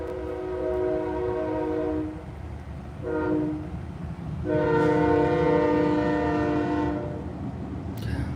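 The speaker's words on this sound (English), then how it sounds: "Train coming by as I'm saying that." A passing train sounds its horn in long, loud blasts, a sustained tone that breaks off and returns stronger, over a continuous low rumble of the railcars going by.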